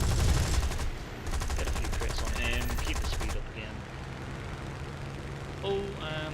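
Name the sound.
fighter plane machine guns firing, from a flight sim video game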